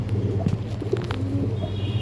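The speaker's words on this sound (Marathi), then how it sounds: "सुपर क्वालिटीचे कबूतर आहेत" Andhra pigeons of show quality cooing softly and steadily in a loft, low repeated coos close by with a few faint chirps and rustles over a constant low hum.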